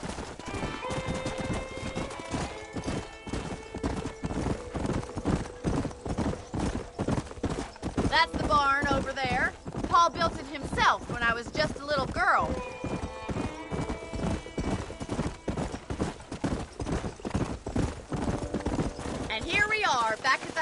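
Horse hooves clip-clopping in a steady galloping rhythm in the video game Red Dead Redemption, joined by occasional whinnies, while characters talk over the ride.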